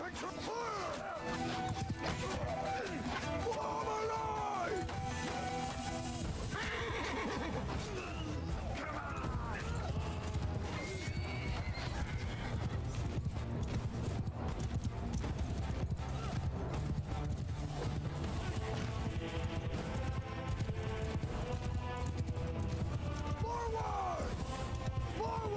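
Horse hooves clip-clop in a rapid, repeating gallop in Mount and Blade Bannerlord, with an occasional whinny, sustained across the whole stretch, while battle noise and speech run over it.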